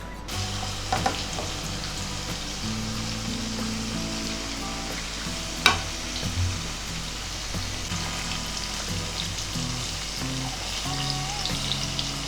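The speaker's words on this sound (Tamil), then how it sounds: "பன்னீரை வந்து கொஞ்சம் மிளகாத்தூள் உப்பு சேர்த்து கொஞ்சம் பரட்டி எண்ணெயில் பொரிச்சு எடுக்க போகிறோம்" Pieces of paneer coated in chili powder and salt sizzle and crackle steadily as they fry in hot oil, close up, with an occasional clink partway through and no talking.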